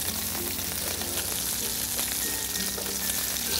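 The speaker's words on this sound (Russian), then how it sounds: "Камбалу, значит, будем отдельно жарить." Steady, close sizzling and crackling of flounder frying in a hot pan inside a winter ice-fishing tent, with no speech over it.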